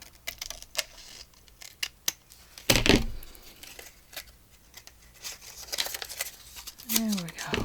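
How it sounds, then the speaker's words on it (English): Scissors trimming laminated paper, a string of small snipping clicks and one louder crisp cut, with someone talking over parts of it. "So I'm just going to trim it."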